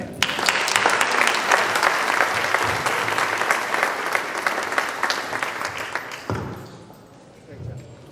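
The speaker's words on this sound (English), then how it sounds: "let's give her a round of applause" Audience applause at a Stand Down event at UConn, loud sustained clapping from a crowd for about six seconds before fading, with voices mixed in.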